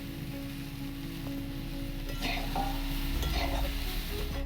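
Soybean chunks with peas, carrots and vegetables stir-frying in a pan for chowmein, a steady close sizzle with scraping stirs growing louder partway through.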